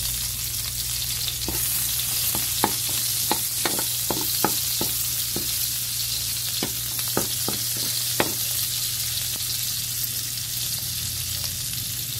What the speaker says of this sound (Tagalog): Para magisa sa mantika yung bawang at sibuyas.